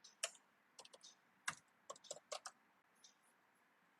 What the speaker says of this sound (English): I'm going to type the password.